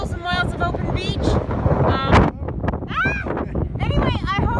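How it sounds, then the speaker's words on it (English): Strong wind gusts buffet the microphone on a wide, empty Oregon beach at Bullards Beach State Park, a continuous low roar running under nearby speech throughout. "it's a windy day, which is not unusual for the area."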